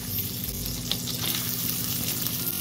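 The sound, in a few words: soaked basmati rice frying in a pan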